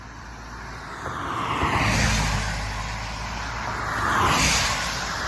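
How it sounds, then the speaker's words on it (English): A single car passes along a rural road near an Appalachian Trail trailhead, its tire and engine roar swelling, easing, then swelling again as it goes by, fairly close and with no talking. "I'm gonna wait until this car goes by before I"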